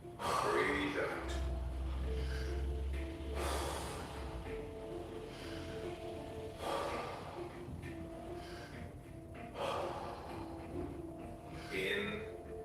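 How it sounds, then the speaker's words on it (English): Rhythmic yoga breathing in and out, slow audible breaths alternating with a guiding voice, with soft background music underneath. "Breathe in, breathe out."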